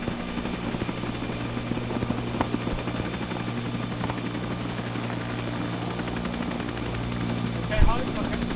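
Steady rotor thump of a helicopter in a military video game, droning throughout, with low engine hum and muffled voices and game effects underneath; a brief louder hit near the end.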